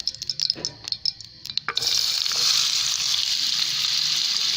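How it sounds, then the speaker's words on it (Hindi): Carrots frying in a little oil make a few stirring clatters, then a steady bright sizzle takes over and runs loud and continuous to the end. "थोड़ा सा ऑयल शामिल करके गाजरें फ्राई कर लेते हैं"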